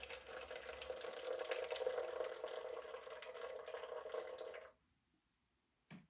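Water poured into a container on a kitchen scale while mixing homemade running gels, a steady splashing pour for about four and a half seconds that stops abruptly, followed by near silence and a brief faint knock.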